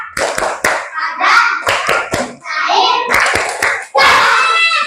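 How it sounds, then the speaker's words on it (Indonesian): Children chant "tepuk wujud benda" in a classroom, their voices carried by a steady beat of sharp hand claps that land in repeated groups between the sung phrases. "Oke, tepuk wujud benda."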